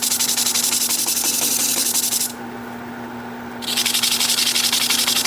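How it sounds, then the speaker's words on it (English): An 80 grit sanding disc rubs steadily against a turned butternut wood piece, a loud continuous abrasive hiss with a motor hum underneath that dips in intensity midway before resuming. "So that's an 80 grit disc as well, and I'll do up to 400 with this"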